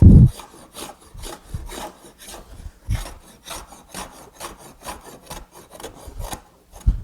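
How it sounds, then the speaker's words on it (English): A hand plane scrubs diagonally across a crowned wooden board being flattened, a rapid series of rough rasping strokes, close and steady, with no talk. "You hear the scrubbing sound?"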